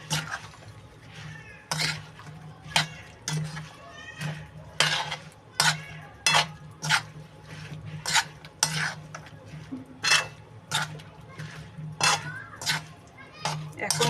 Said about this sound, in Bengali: এবার এটাকে ভালো করে মেখে নেবো